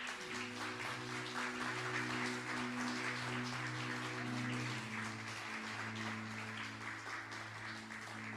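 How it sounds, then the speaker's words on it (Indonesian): A church congregation at a worship service claps in praise, steady applause under a sustained keyboard chord, moderately distant and fairly quiet throughout. "Beri tepuk tangan untuk Tuhan"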